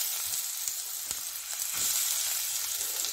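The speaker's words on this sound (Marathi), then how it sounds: "आता कांदा फोडणीला घाल" Onion hits hot oil for tempering an egg curry, a bright, continuous close sizzle that swells slightly midway, with no voices.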